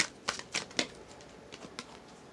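Tarot cards being shuffled and drawn close by, a few quick soft riffling flicks at the start followed by fainter single snaps, quiet and alone.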